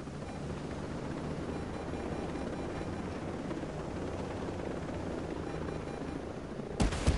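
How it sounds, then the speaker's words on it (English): Helicopter flying in a PS4 video game, a steady close rotor and engine drone that holds throughout, with a brief burst of sharper clatter near the end. "We're gonna start flying by helicopter."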